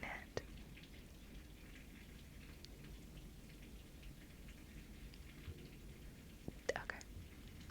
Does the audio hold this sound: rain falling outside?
yes